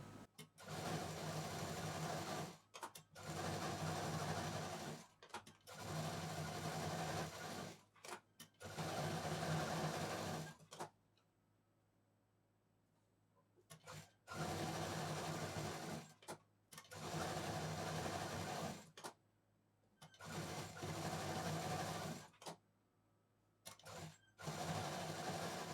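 A sewing machine stitching a border onto fabric for a traditional potli bag runs in steady bursts of rapid, whirring stitching, each several seconds long, separated by pauses and a longer quiet stretch midway, close and fairly loud.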